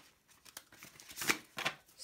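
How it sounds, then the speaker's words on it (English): Tarot cards are shuffled close by in quiet, irregular riffling bursts, soft papery flicks building to a couple of louder snaps toward the end. "one last shuffle"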